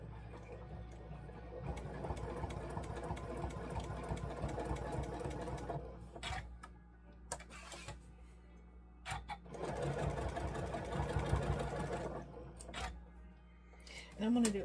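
A sewing machine stitches snowball corners on a quilt block in several bursts of rapid, close needle chatter, broken by short pauses and clicks as the fabric is repositioned.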